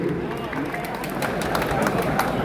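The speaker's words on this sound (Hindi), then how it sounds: "जोरदार तालियां होनी चाहिए।" Audience applause at a Bihar State Madrasa Education Board event: dense, steady clapping from a large crowd, filling the whole stretch at an even, loud level.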